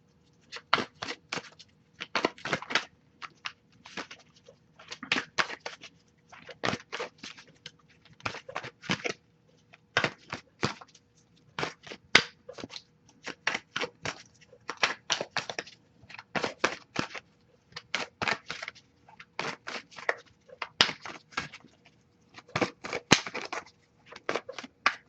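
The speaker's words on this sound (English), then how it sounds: "let me shuffle a bit more and get a card here" Tarot cards shuffled by hand in quick riffling bursts, each crisp flurry of snapping card edges separated by short pauses, close and fairly loud, repeating steadily with no talking over it.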